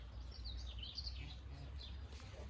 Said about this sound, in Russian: Ой, птички поют.